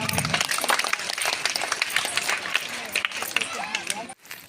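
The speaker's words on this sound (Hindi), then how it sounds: "जोरदार तालियां।" Loud, dense applause and crowd noise at a school annual function, a continuous wash of clapping with voices mixed in, running steadily before cutting off abruptly near the end.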